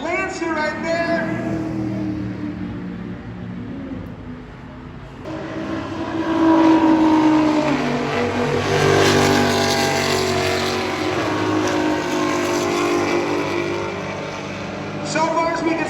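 Race cars roaring past on a circuit, a Mitsubishi Lancer and an all-wheel-drive V6 Nissan R35: loud, sustained engine drone rising and falling as cars pass, with a commentator's voice over it.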